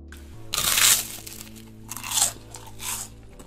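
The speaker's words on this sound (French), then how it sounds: "s'enregistrer avec un micro de haute qualité en train de manger des aliments très croustillants, bien que relativement bon marché comme des ailes de poulet et des toasts" Crunchy bites of cheap, very crisp food such as chicken wings and toast, close-miked for ASMR: three loud crackling crunches spaced about a second apart over a quiet background, with no talking.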